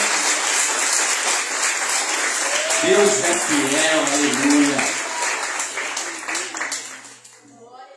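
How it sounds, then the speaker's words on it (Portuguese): Church congregation at a missions service applauding, a dense sustained wash of clapping heard loud and close, with someone speaking over it midway, before it tapers off at the end. "Então vamos aplaudir."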